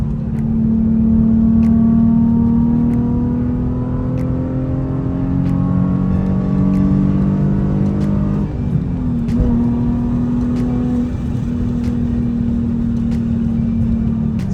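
A Nissan Z sports car engine revs steadily and loudly at close range for a sustained stretch, the pitch climbing, dipping briefly and then settling into a strong hum, with no voices.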